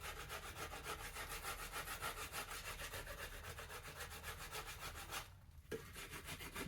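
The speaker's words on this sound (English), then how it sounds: "Now we're onto the rasp." A hand rasp works the heartwood of a yew bow stave in steady, rhythmic back-and-forth strokes, close and dry, with no talking, and the scraping pauses briefly near the end.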